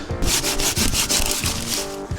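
Small hand saw cutting dry firewood in a forest, rhythmic rasping strokes back and forth, close and fairly loud, with no voices.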